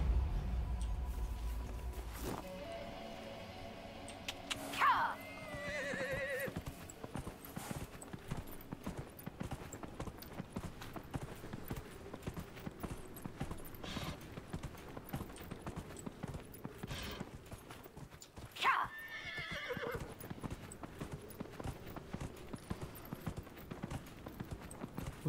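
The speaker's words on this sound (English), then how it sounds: "Horsey horse." A horse in Dragon Age Inquisition trots along with steady rhythmic clip-clop hooves over a long stretch, with a couple of brief whinny-like bursts rising near the start and again later.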